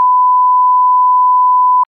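Steady, loud quiz buzzer beep holding one pure tone for nearly two seconds before cutting off cleanly, with no voices over it.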